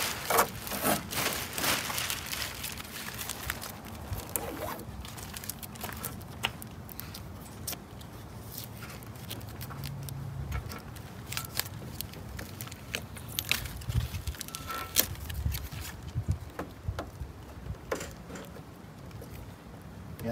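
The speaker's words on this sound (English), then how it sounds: "It's just peeling off of the primer." Vinyl wrap peels away from the primer on the rear fender of a VW Thing, giving a close, continuous crackling, ripping rustle with sharp tearing snaps throughout.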